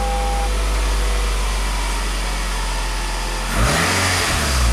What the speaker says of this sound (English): Fires right up, revs up nice.